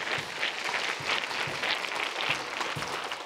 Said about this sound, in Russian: Вы можете смело им аплодировать.